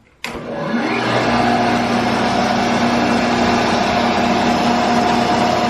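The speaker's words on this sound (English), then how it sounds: "with this bearing and these two bearings cleaned and re-greased, it runs quiet at last" A bandsaw starts up with a sharp click and settles into a steady, fairly loud motor hum and whir, running on freshly cleaned and re-greased bearings without squealing.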